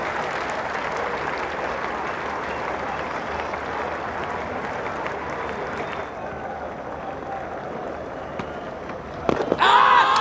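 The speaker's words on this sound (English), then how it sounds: "warm applause from all of the supporters in the ground and on the fort" Cricket supporters applauding at the Galle ground and fort during a Test match, a broad, steady wash of distant clapping across the stands that thins out, with a sharper louder burst near the end.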